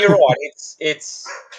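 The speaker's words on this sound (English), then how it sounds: "apologise about that dog that's barking" A dog barks in short yips and woofs somewhere nearby, mixed in with someone speaking close up.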